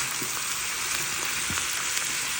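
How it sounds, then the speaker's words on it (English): Onions, tomato and green pepper sauteing in a pan make a steady, close frying sizzle with faint stirring scrapes underneath, alone without talk. "And I'll have everything sauteed with the onions."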